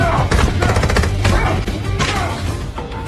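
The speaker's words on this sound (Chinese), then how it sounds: "他的家也被敌人的 SIG SG552扫成了马蜂窝" SIG SG552 assault rifle fire in an action-movie home-invasion fight, a loud, dense burst of rapid automatic shots and crashing impacts that continues without a break.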